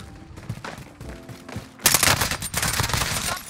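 Rapid automatic gunfire in a shooter video game, a dense crackling burst that swells louder partway through and keeps going without pause.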